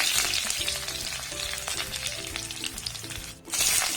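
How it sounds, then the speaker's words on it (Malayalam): Mustard seeds and curry leaves crackle in a small amount of hot oil for a Kerala kootu curry. A dense, steady sizzle with scattered pops runs close and alone throughout. "ഇനി ഇതിലേക്ക് കടുകിട്ട് പൊട്ടിക്കാം. കുറച്ച് കറിവേപ്പില ചേർക്കാം."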